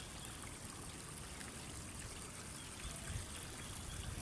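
The swollen Angat river, still high after heavy rain, rushes past in a strong current, a constant dense watery roar that stays even and close, with no other sounds standing out.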